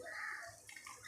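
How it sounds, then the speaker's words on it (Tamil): Half a tumbler of water is poured into a pan of onion and tomato masala, giving a faint, steady, soft pouring and splashing that runs through the whole moment without talk. "கொஞ்சமாக 1/2 டம்ளர் தண்ணி இதில் ஊற்றிட்டு இதை அப்படியே கலக்கி விட்டுடலாம்"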